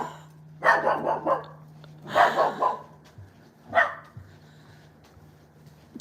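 A dog barks in three short bursts of several barks each, close by and fairly loud, with a steady low hum underneath and quiet pauses between the bursts.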